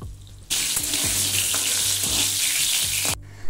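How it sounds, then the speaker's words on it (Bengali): Diced potatoes frying in hot oil in a wok for a village-style chicken curry, a loud, dense sizzle that starts abruptly and holds steady with a few stirring knocks, then cuts off near the end. "তেলটা গরম হয়ে এলে ডুমো ডুমো করে কেটে রাখা আলুগুলিকে ভেজে নেব।"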